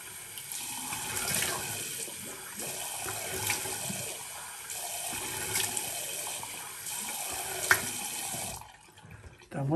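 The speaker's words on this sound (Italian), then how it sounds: "Sciacquiamo il viso." Running tap water splashing as a face is rinsed after a shave with a Henson AL13 razor, a steady close faucet stream with brief splashes and pulses, stopping near the end.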